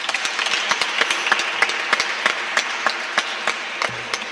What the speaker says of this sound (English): I want to give Doc a round of applause